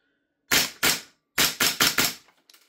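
A Lambda Defence B&T GHM9-G gas blowback airsoft SMG fed from a Marui magazine fires sharp, loud, close shots: two spaced single shots, then a quick burst of four, trailing into a few faint clicks.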